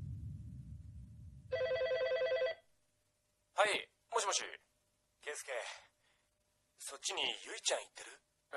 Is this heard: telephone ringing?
yes